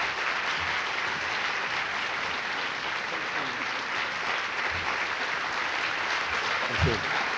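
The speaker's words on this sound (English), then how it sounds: "Please give a big hand of applause to Paul Theroux." A lecture audience at a writers festival applauds steadily for the speaker, a dense even wash of many hands clapping that holds for several seconds without any speech.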